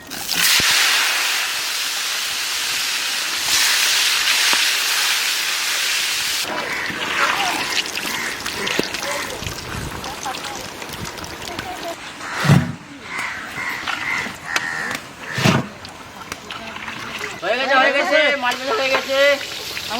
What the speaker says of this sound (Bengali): বেগুন ভেজা চলছে